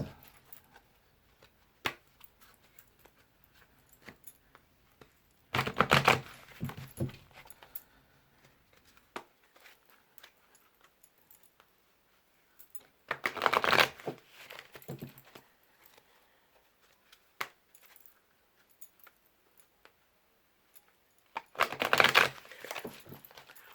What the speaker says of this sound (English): let me shuffle some more because I didn't ask for guidance